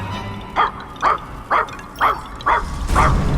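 A robot dog from the video game Puppeteer barks six times in an even, evenly spaced series of sharp, mid-pitched yips over a low background hum, with no other voices.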